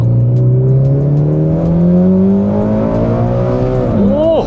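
A Mitsubishi Lancer Evolution X FQ440-MR pulls hard in second gear, its engine note climbing steadily and loudly up the rev range before a sharp drop and swoop as the throttle lifts near the end.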